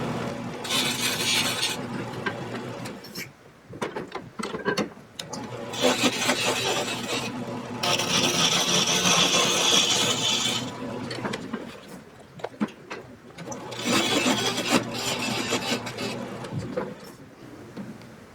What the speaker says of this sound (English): Now I've cut my tenon that's going to go into the ball.